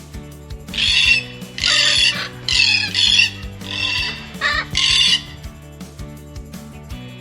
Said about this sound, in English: Hear that squawking?